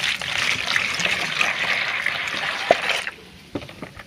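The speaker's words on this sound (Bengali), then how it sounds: "আগে জলটা দিয়ে দিই, একটু জলটা মিশিয়ে নিই" Water pours in a steady trickling stream into a container to prepare a bath for a pet pigeon, running continuously at close range before stopping near the end, followed by a few faint drips and splashes.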